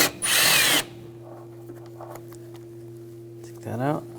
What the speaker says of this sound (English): We're going to take these two bolts out, use a 10mm socket.